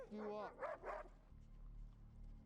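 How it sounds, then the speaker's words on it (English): A sniffing dog in a tense TV drama scene gives a few short, whiny barks close by at the start, then a low background hum fills the rest of the moment. "They got a infected sniffing dog."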